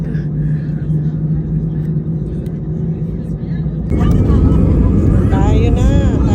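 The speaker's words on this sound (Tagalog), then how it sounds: "Nakakaaliw din lang manood ng mga aeroplano." A passenger airliner's engines roar during takeoff on a London-to-Barcelona flight. A steady low cabin rumble swells abruptly louder partway through, and people talk over it throughout.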